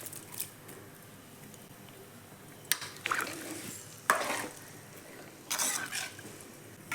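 Tamarind water and rock salt go into a simmering kandankathiri marunthu kuzhambu in three short splashing, scraping bursts. Each burst rises over a quiet, low bubbling background.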